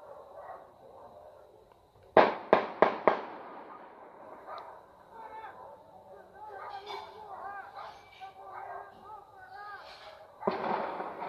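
Several sharp gunshot cracks in a quick burst, then another volley later, heard at a distance during a confrontation in Vila Elmira, Barra Mansa, Brazil, under someone talking and background voices.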